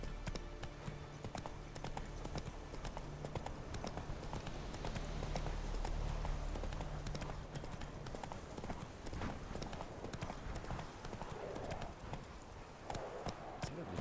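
Steady rhythmic hoofbeats of a horse named Roach trotting in the video game The Witcher 3: Wild Hunt, clip-clopping continuously at moderate distance under faint game ambience and occasional speech.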